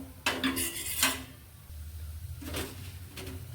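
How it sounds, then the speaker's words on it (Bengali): Semolina (suji) is stirred in a pan. A utensil gives a few close scrapes and knocks in two bursts, with a quieter stretch between them. No one speaks. "5 মিনিট আমি একে ভালো করে নাড়তে থাকবো।"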